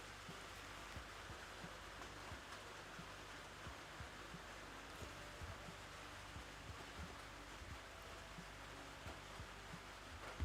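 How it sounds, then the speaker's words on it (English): Steady rain falls outside, a soft, even hiss with scattered faint drip ticks, continuous and fairly quiet. "The rain's still picking up."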